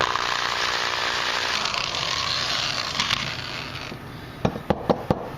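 A small drill bit bores into a radiator grommet filled with Windo-Weld, giving a steady, close, harsh whirring grind that fades near the end into a few sharp clicks.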